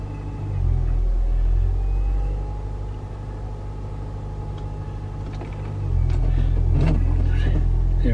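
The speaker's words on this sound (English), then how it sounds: "start the car, start the engine, you can hear it" A Toyota C-HR 1.8 VVT-h hybrid's petrol engine starts up and settles into a deep, steady idle rumble heard from close by. A short rise in revs comes near the end, with faint talking in the background.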